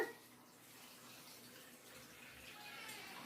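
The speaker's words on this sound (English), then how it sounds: "Okay, so I'm going to add a 2 gallon of filtered water." Filtered water is poured from a jug into a roaster for making broth, giving a steady, fairly faint stream of running and filling sound throughout with no speech.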